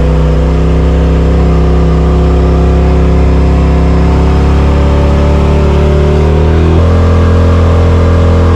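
A Polaris RZR Pro XP fitted with an RPM E-Valve electronic exhaust muffler runs loud and close, a deep steady engine drone that climbs gradually in pitch as it revs, then shifts up sharply near the end, with no talking.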